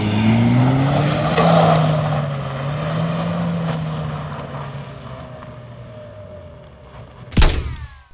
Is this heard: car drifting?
yes